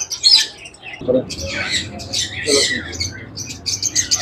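A Sunday bird market in Bahawalpur, Pakistan, where caged birds, including Java sparrows, give loud, overlapping squawks and chirps in bursts, with some background voices beneath them.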